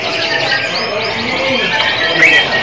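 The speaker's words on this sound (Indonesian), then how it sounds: "Nah kalau yang ini kenari loper warna panda ya" A canary sings a rapid, continuous warbling trill with bright high chirps, close by and fairly loud, at a bird market.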